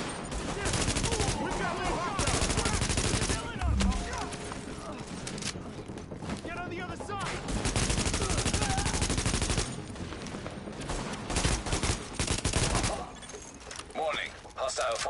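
Dense bursts of gunfire crackle in The Division video game, with rapid automatic volleys and scattered single shots over several seconds. Voices talk over the shooting.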